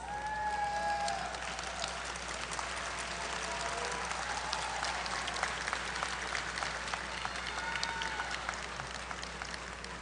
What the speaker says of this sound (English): give your faculty a round of applause